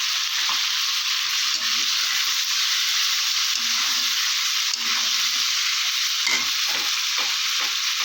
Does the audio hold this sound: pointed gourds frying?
yes